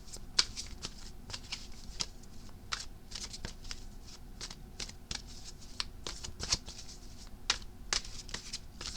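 Tarot cards being shuffled continuously, a steady run of quick, crisp card snaps and riffles repeating in an uneven rhythm over a faint hiss, quiet overall and close by, with no voice.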